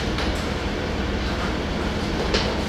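Train rumbling past close by near the MRT Taft and LRT EDSA stations, a steady loud roar of rail traffic with no talk.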